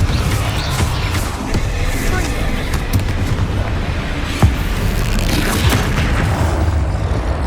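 A Confringo fire blast spell erupts in the Hogwarts Legacy video game as a dense, rolling rumble of booms, with a sharper punch near the middle, loud and continuous throughout.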